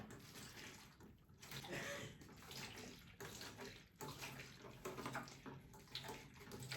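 Water siphoned through a tube into the water tank of an XTERRA ERG600W rowing machine, a continuous close gushing and splashing flow with slight surges and no talk.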